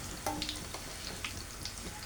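Batagor, Indonesian fried fish dumplings, sizzle in hot oil with a steady close crackle and scattered pops and spatters, no voices.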